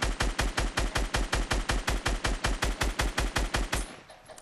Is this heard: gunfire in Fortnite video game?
yes